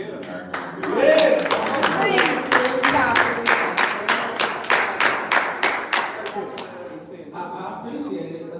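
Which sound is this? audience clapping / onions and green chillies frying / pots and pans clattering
audience clapping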